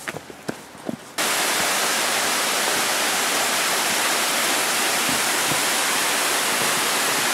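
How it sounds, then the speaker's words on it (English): After a second of faint sounds, a powerful rushing waterfall on the Mount Kinabalu trail roars in, a loud, constant wash of white noise close by. "our first waterfall only"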